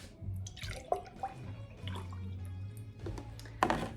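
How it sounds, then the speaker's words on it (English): Strained kava is poured back into a container, giving bubbly, trickling liquid sounds with a few sharper splashes and drips, close and moderately loud, with no voices. "Here you have your strained kava. So I just pour this back"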